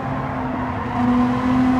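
Race car in Gran Turismo 7, a steady droning engine tone held at constant pitch, close and moderately loud, rising slightly in level and pitch partway through, with no talk.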